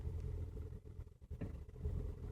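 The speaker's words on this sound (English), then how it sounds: "Car is about to come to a complete stop." A Hyundai Elantra rolls in neutral and comes to a complete stop, its engine idling with a low, steady rumble heard close up, dipping briefly midway before settling back into an even idle.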